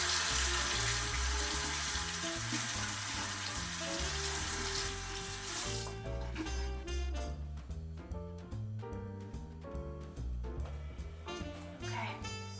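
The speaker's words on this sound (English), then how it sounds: "Now rinse my hands." Hands being rinsed under a running tap, a strong continuous rush of water for the first half, then a quieter stretch with spattering drips, clinks and faint movement at the sink.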